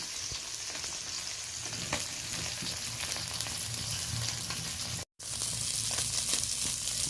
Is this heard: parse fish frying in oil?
yes